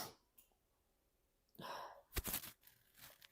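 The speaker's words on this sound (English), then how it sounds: "Sneezing is not under my control, guys." A single sneeze indoors, quiet overall, starting with a breathy intake and ending in a sharp burst, followed by a short trailing breath and a faint sniff, with no talking.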